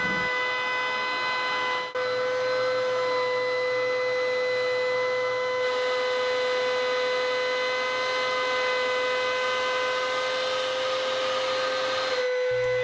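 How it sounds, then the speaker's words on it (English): A router table with a straight cutting bit cuts cherry wood, a loud, sustained high-pitched whine with steady tones holding for over ten seconds, shifting slightly as the stock feeds through, then cutting off near the end. "I'm gonna do it with the router table using a straight cutting bit in my fence"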